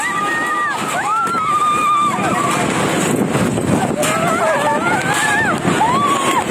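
Strong gusts of wind tear across an outdoor event in Mamuju, West Sulawesi, buffeting the microphone with continuous loud roaring, as a stage and dozens of tents blow down and people shout and scream nearby.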